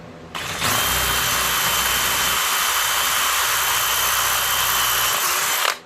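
A power drill enlarges bolt holes to fit larger bolts while a volt meter is installed for the house batteries of a 1994 Fleetwood Bounder motor home. The loud, steady whine starts abruptly and runs unbroken to the end, with no talk.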